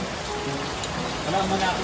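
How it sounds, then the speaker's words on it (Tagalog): Heavy rain pours down in a dense, unbroken roar, with voices faintly audible beneath the downpour. "Grabe ang ulan."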